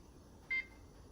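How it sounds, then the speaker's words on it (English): A single short electronic beep from a kitchen timer being set, clear and close against a quiet room hum, with nothing else heard. "let's do kitchen timer. 15 minutes on the timer"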